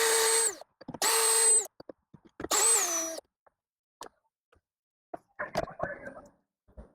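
Assist handle bolts on an SUV are loosened with a 10mm socket on a power driver, heard as three short high-pitched whirring bursts, then scattered clicks and a few softer rattling bursts at the end.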